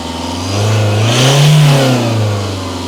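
A Citroen Berlingo HDi 2.0 diesel engine revving close up, rising in pitch to a peak mid-way and settling back, running smoothly without misfiring.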